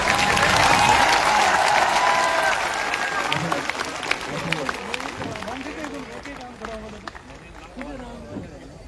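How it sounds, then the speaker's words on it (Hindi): An audience at the Gyanoday 3.0 event in Suratgarh bursts into loud, dense applause that slowly thins and fades, while a voice speaks over the later clapping. "आपकी तालियां रुकनी नहीं चाहिए"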